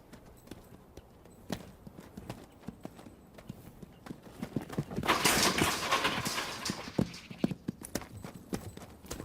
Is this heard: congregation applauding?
no